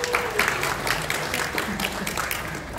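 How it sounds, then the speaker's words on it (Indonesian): An audience at a public discussion event on Indonesia's draft criminal code (RKUHP) applauds for the police, steady broadband clapping lasting throughout with some voices mixed in. "Kita tepuk tangan untuk Polri dulu."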